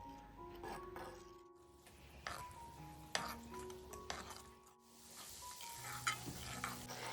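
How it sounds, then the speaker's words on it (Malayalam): Pieces of leftover chapati made into a milk-powder sweet fry in oil over a low flame while a spoon stirs them: a faint, quiet sizzle with scattered clinks and scrapes of the spoon, and soft tonal music underneath. "ഫ്ലെയിം കുറച്ചിട്ടിട്ട് വേണം ഇതുപോലെ ഒന്ന് സ്പൂൺ വെച്ച് ആക്കി എല്ലാം ഒരു ഗോൾഡൻ നിറം ആവുന്നത് വരെ ഫ്രൈ"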